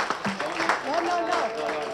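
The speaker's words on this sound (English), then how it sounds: "So a round of applause for Mia, veramente." Audience applause for a photography competition winner, steady clapping heard under lively overlapping voices and cheering from the crowd.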